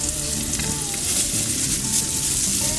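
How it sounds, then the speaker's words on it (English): Meat browns with caramelized onions in a hot pan for Hungarian goulash, a loud, dense sizzle that continues without a break, with faint stirring scrapes underneath. "We're gonna add the meat, and we're gonna brown it kind of with the onions"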